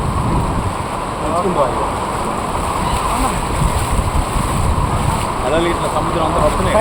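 Sea waves wash and splash continuously onto a beach at Machilipatnam, a broad steady roar of surf close by, with voices talking over it.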